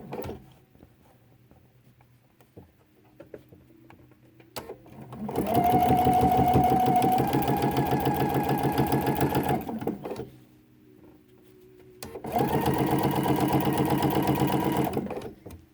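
A sewing machine stitches binding onto a quilt in two long steady runs, loud and close, separated by a quieter pause with faint handling.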